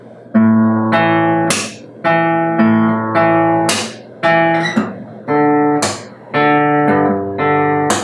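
Plucked fingerstyle guitar notes in a repeating low bass pattern, each note ringing out before the next, with brighter strums punctuating the phrases.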